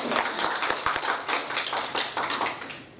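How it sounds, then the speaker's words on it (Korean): Scattered audience clapping at a Korean talk by a mechanical and aerospace engineering professor, a modest crowd with uneven, distinct claps rising and fading at moderate loudness. "큰 박수 부탁드립니다"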